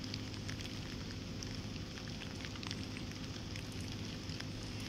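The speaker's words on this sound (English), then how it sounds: "Yes, it's still straight up pouring." Heavy rain pours down at a riverside or lakeside fishing spot, a dense, constant hiss with scattered close drop hits and no break.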